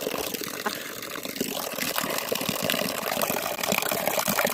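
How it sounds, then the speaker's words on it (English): Water from a makeshift outdoor hose rushing steadily into a bucket, a constant loud splashing gush that holds for several seconds without pause, no voices. "We'll see if we can fill up a bucket."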